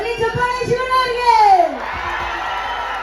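A crowd cheers and whoops for Shivarajkumar at the Veda pre-release event at Panambur Beach, Mangalore, with a loud rising and falling shout over a steady, fairly close mass of voices.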